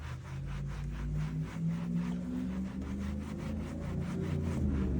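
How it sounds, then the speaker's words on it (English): Vinyl seats in a Ford F-350 truck interior being scrubbed with cleaner, giving a rapid, even brushing rhythm of short rubbing strokes, close and steady, over a low mechanical hum with no talk. "give this a light mist, and we're just gonna come back through and scrub this off"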